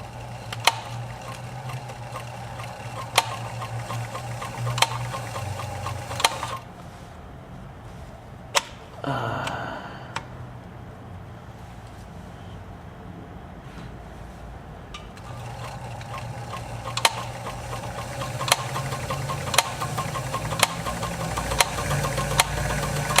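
Kenmore 84 sewing machine running a basting stitch, a steady mechanical hum with periodic sharp ticks from the needle, pausing briefly midway with a short rustle before resuming, close and without talk.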